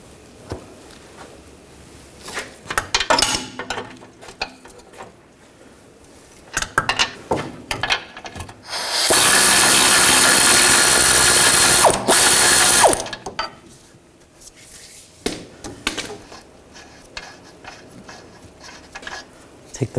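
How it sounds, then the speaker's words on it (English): Rapid metallic ratcheting clicks in bursts from an 18mm socket wrench loosening a rear control arm bolt on a Volkswagen Tiguan, with a few seconds of steady loud grinding noise in the middle, close and clear with no talking. "Using a 18mm socket on the nut, 18mm wrench on the bolt, we're going to loosen this up."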